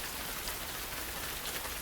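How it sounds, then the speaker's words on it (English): Gentle rain falls as a soft, steady, even hiss, faint and unbroken, with nothing else heard. "Let the rain do its magic."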